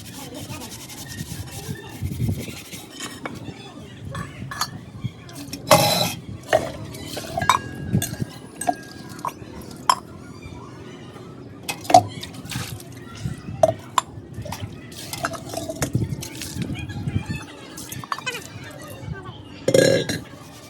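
Burnt brass pots, a clay pot and an iron griddle are scrubbed by hand, with rubbing, clinks of metal and splashing water in irregular bursts, with quiet voices in the background.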